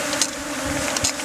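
Honey bees buzz at a hive entrance across a venom collector's electrified grid, a steady close insect drone with a few brief louder swells.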